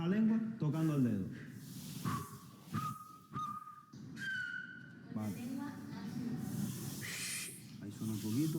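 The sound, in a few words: Silbo Gomero whistled language being practised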